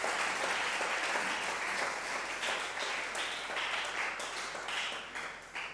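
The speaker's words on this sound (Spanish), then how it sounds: "dale un fuerte aplauso al Señor" A church congregation claps in a strong, sustained round of applause during a sermon, dense and close, tapering only slightly toward the end.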